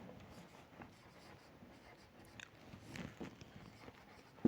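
A pen writing on paper during a class 7 geometry lesson on constructing a triangle, a soft continuous scratching with small strokes at close range, faint and without speech.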